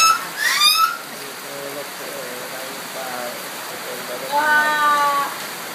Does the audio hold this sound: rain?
yes